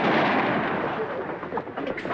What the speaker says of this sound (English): We're chasing some fellas. They shooting at us.